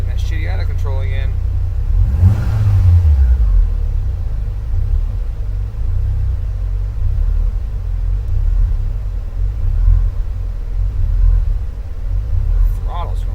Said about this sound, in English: Throttle's going crazy on that.